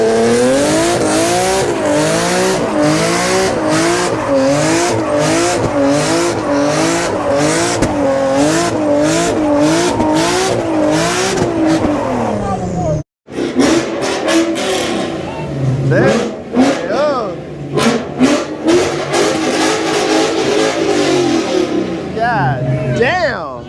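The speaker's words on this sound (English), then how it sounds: "Turbo G35, whatever the fuck this is, Infinity." A turbocharged Infiniti G35 at a car meet revs hard and accelerates, a loud rising and falling engine note with repeated revs, a brief cut, then further loud passes and blips close by.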